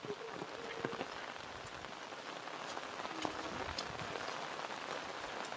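Steady rain pattering on surfaces all around, a soft continuous hiss with scattered louder drops, fairly distant and even.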